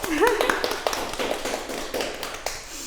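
Audience clapping for Mbak Santi on a talk show set, a burst of quick irregular claps sounding close, with a voice briefly rising near the start.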